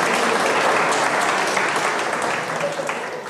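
Steady audience applause at a slam poetry performance, a dense wash of clapping that holds strong before easing slightly toward the end.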